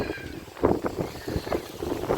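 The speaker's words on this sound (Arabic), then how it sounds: "ولكن الريح بزاف" Strong wind at Tangier Ibn Battouta Airport buffets the microphone in uneven gusty bursts, a close, rough rumble that rises and falls over a couple of seconds.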